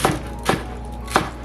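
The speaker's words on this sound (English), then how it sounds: "Then I'm going to chop the green onions as well." A knife chops green onions on a cutting board for a seafood curry, three crisp, close thuds at uneven intervals over a steady low hum.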